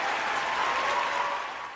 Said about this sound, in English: Let me get some applause going for them too.